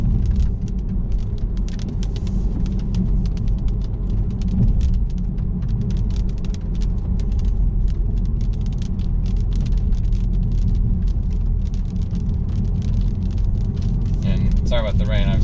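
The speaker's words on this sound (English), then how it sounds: "sorry about the rain, obviously not much I can do about that" Rain drumming on a moving BMW 328i fitted with a 335i exhaust, heard from inside the car as a steady dense patter over the low, continuous road and engine rumble, with no pauses.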